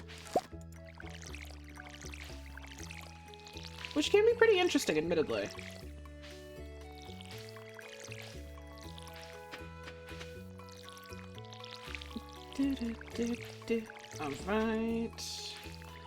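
A watering can pours splashing water over strawberry crops in the farming video game Stardew Valley, two short bursts heard under upbeat game music while someone talks over it.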